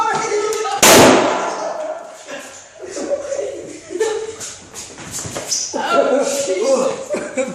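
A homemade works bomb of aluminum foil and hydrochloric acid bursts with one sharp, loud pop near the start, then voices talk and shuffle about through the rest.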